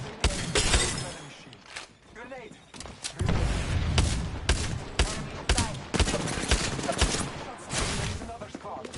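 A grenade goes off in the Apex Legends battle-royale video game amid heavy gunfire: loud overlapping blasts, shattering bursts and rapid shots with game voice callouts mixed in.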